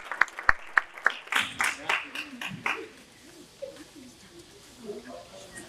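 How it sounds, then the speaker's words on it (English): An audience at an awards event applauds the 2024 sponsors in a short burst of scattered claps that fades after a few seconds, giving way to quieter murmuring voices. "Let's give another round of applause for our 2024 sponsors from Men of Honor"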